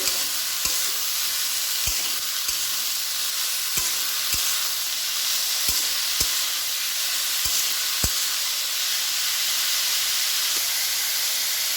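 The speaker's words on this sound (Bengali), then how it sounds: "এবার একটু নেড়ে দেবো ভালো করে।" Snake gourd fries in a pan with a steady, close sizzle and hiss, broken by sharp scraping clicks as a spatula stirs it at irregular intervals; no one speaks.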